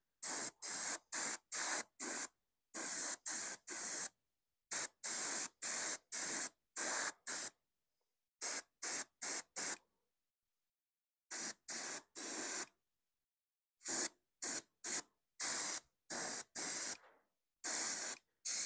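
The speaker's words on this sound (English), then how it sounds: "Let's spray some yellow on it and see what that does." An Iwata HP-CS airbrush sprays yellow paint onto an old, broken body in short hissing bursts of about half a second each, some in quick runs and some spaced by silent pauses, close and clear with no voices.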